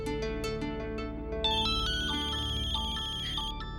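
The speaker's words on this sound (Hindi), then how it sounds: "मोहित का फोन है" Mobile phone ringtone playing loud and close, a bright repeating melodic tune of quick tonal notes that rings steadily throughout with no talk.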